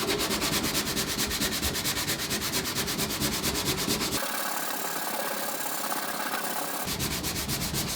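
Steady rhythmic rubbing strokes of abrasive over the paintwork of a motorcycle fuel tank during preparation for painting, close and repetitive, with a brief change in texture midway before the back-and-forth strokes resume.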